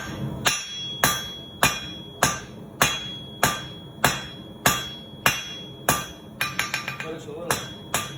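Hot steel rings under heavy hammer blows on an anvil as a taper is drawn out, about a dozen evenly spaced strikes followed by a quick flurry of lighter taps, close and clear.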